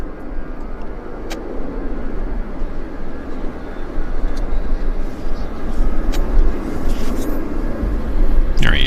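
An Air Canada airliner, flight 861 from Heathrow, approaches Vancouver airport with a steady, distant jet roar that builds slightly louder toward the end.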